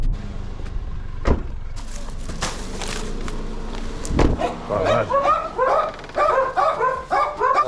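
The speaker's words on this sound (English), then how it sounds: "God, those dogs, man." Several dogs bark in quick repeated bursts close by, growing busier toward the end, over the low hum of a food-delivery driver's car with faint talk in the background.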